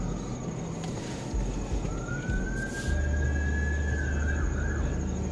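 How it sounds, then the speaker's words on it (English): A single ambulance siren wails past at a distance, rising and holding a long tone over a constant low rumble of traffic. "ambulance going by"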